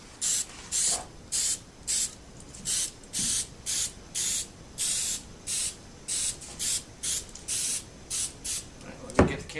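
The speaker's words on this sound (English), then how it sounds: "Okay guys, we're going to get to spraying now." Aerosol spray can spraying onto a tarp, heard as a regular series of about eighteen short hissing bursts, each around a third of a second long with brief gaps between, close and steady, ending with a small knock.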